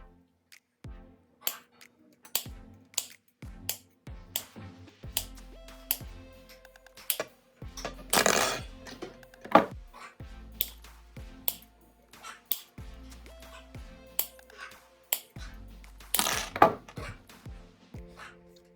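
Scissors snip small rectangles of material for a rabbit hay feeder, sharp isolated cuts at an irregular pace with a few louder crunching bursts and quiet gaps between.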